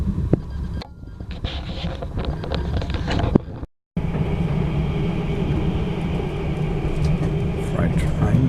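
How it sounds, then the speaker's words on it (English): Freight train on the northern line passing near a depot, heard from aboard another train: a steady, loud rumble and rattle of wagons with wind buffeting the microphone, broken by a brief sudden dropout, with speech-like noise mixed in. "Freight train."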